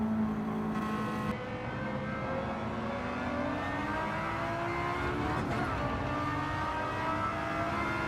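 Engine-swapped Toyota AE86 with a B58 engine racing in Gran Turismo 7 on the Deep Forest track, a steady high revving engine drone held throughout with a slight pitch shift near the middle, loud and continuous.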